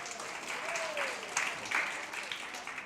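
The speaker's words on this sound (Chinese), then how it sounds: "我们给这个帅哥给他一个掌声鼓励一下" A church congregation at a Sunday service applauds in a steady wash of clapping that holds for a few seconds, moderately distant and filling the room, with a voice briefly audible over it.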